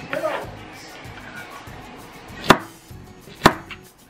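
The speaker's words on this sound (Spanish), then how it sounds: "ahora voy a partir las bananas" A knife cuts through bananas onto a board with two crisp, close chops about a second apart, after soft background kitchen noise and a faint voice.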